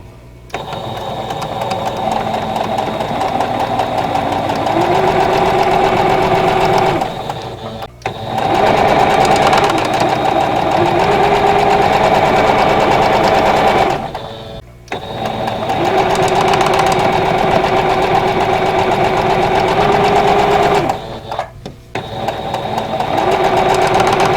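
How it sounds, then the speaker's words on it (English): A sewing machine stitches a quilt block seam for a vintage Rosebud block, running steadily and loudly in three long bursts separated by brief pauses. "So we're going to sew this seam right here."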